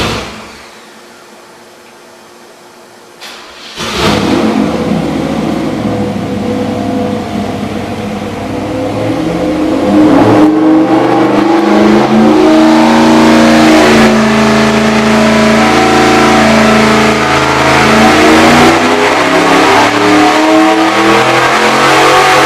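383 small-block Chevy stroker V8 on a dyno firing up after a quiet start, then running loud and steady close by, its rumble rising in pitch as it is revved higher, with no talk over it.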